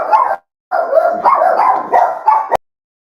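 Two dogs barking in a hotel room, loud and close, in a burst of sharp overlapping barks and yips after a short opening bark, with no talking.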